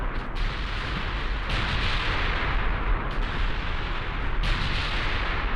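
Naval gunfire from secondary and cruiser guns in the Ultimate Admiral Dreadnoughts battle game: a continuous dense roar of booming shots and explosions, with sharper reports standing out every second or so.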